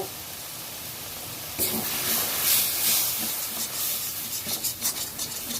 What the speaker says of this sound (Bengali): এবার আমি লঙ্কার গুঁড়ো আর হলুদের মিশ্রণটা দিয়ে দিচ্ছি, আবারও খুব ভালো করে কষিয়ে নেব।